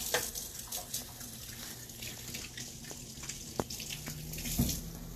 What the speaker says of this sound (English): I'm going to go ahead. wash my hands.